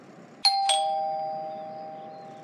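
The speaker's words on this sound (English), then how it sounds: "Who rang the doorbell?" A doorbell gives two bright chimes in quick succession, close and clear, each ringing out and slowly fading over the next two seconds in a quiet room.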